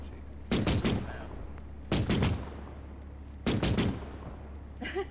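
Three separate bursts of rapid gunfire from the military shooter game Arma, each a tight cluster of loud cracks with decaying tails, followed by a softer rattle near the end.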